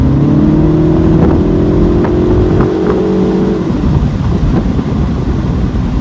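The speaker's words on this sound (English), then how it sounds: "The biggest difference between this Cooper S and the Cooper JCW is the exhaust noise." A 2025 MINI Cooper S Convertible accelerates, its quiet exhaust note rising steadily in pitch for a few seconds, then easing off into a soft, steady drone under road and wind noise.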